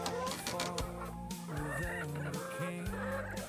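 Hens cluck in repeated short calls over a low, busy background, several birds fairly close together.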